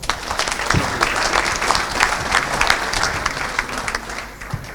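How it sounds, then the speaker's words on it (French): An audience at a talk about military camps claps for a speaker, with steady, dense applause holding for several seconds before tapering slightly at the end. "Merci, on peut l'applaudir."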